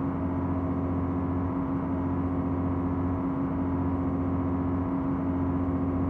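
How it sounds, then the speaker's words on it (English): A diesel train engine in Train Simulator 2019 on the Liverpool to Manchester route runs with a steady, loud droning hum and a constant low throb, unchanging throughout. "That sound is all too familiar of the engine."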